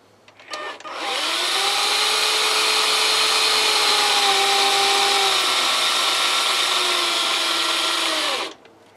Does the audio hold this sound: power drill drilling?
yes